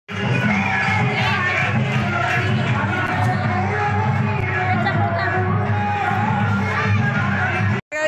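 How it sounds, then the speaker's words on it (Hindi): A dense crowd packs a temple on Janmashtami, a steady loud babble of many voices with children shouting and occasional whoops close around, ending in a brief cut. "बहुत भीड़ है।"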